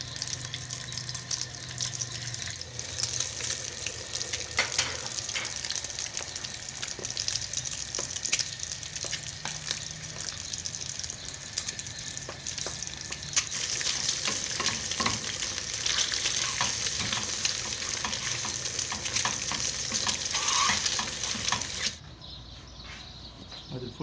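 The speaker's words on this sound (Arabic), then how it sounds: "فاحنا هنحطه ونغطيه ونسيبه كده مع بعض عشان يتسبك مع بعض شوية" Home-cooked mashed fava beans sizzling and simmering with tomato in a covered tagine, a steady close frying crackle with stirring scrapes, louder near the end before a sudden drop; speech is faint or absent.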